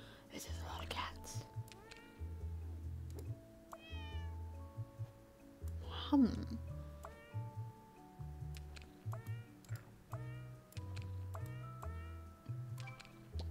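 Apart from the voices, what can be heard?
cats meowing in a video game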